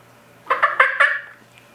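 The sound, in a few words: hunter imitating a hen turkey call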